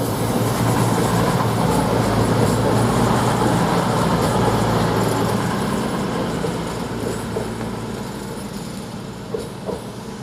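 CrossCountry unit 220010 runs through Durham station on its Reading to Newcastle service, giving a loud, steady rumble with faint wheel clatter that eases slightly toward the end, no voices.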